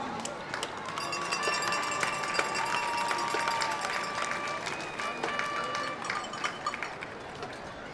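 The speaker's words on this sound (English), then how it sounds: "Let's give them a round of applause." Crowd applause at a high school football game between the San Benito Greyhounds and Weslaco Panthers, a steady patter of many hands clapping at a distance, with scattered sharp claps and a faint voice over the stands.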